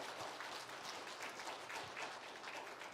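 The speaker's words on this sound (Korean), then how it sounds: "힘찬 박수 부탁드립니다" Steady applause from a church congregation at a retirement service, a dense even patter of clapping that stays at the same level throughout, heard from some distance.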